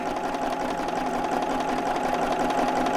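A sewing machine hums and chatters at a constant, even pace while free-machine embroidering lettering, its fast needle rhythm steady and close throughout, with no voices.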